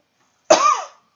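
A single short, sharp adult cough, close and clear against silence.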